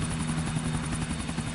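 Steady, close helicopter rotor drone from a chopper flown in the video game GTA IV, a continuous loud whir with strong low hum, no talk over it.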